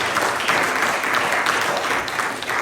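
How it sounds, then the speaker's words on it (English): Applause from an audience at a meeting, a steady wash of clapping hands at moderate distance, sustained without voices. "Another hand of applause."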